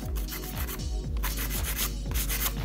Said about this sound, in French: moi je vais utiliser cette lime là 180 de chez Denato